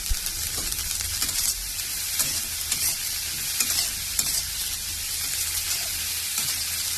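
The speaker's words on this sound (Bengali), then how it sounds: "এটা ছোলা ভাজা হচ্ছে।" Chickpeas frying in a pan make a steady, close broadband sizzle that runs the whole time, with occasional scrape-like stirring accents and no talking.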